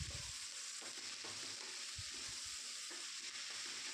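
Chilies, tomato, mint and coriander leaves frying in a pan for mushroom biryani, with a steady broad sizzle and several close spoon scrapes and stirring knocks throughout.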